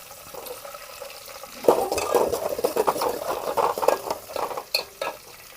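Mango moong dal stirred in a pot with onions, a spoon scraping and clinking against the metal in steady strokes over a soft sizzle, louder and busier after a quiet opening.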